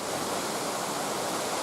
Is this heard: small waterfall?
yes